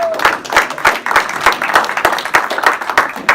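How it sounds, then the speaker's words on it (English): Audience applause at an evening community event, many hands clapping in a brisk rhythmic patter with sharp individual claps, loud and close throughout. "Everybody give them a round of applause."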